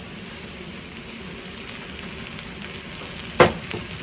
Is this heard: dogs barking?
no